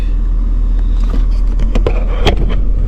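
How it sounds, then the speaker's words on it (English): A 2021 Ford F250 with a 6.7 Powerstroke diesel engine runs steadily, a loud continuous low rumble with a few brief louder bursts, and no talking. "Alright, so we get the truck started. See, it's running."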